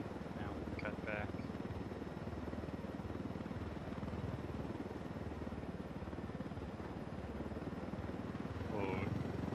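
An Unidad chopper in the video game Ghost Recon Wildlands produces a constant low rotor drone throughout, mid-level and steady, with brief chirpy game sounds near the start and end.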